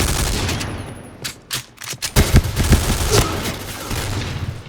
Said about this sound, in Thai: อย่าง SS3 แล้วกันเสียงก็จะเหมือนปืน VZ นะ VZ52 นะ ปืนโบราณนะ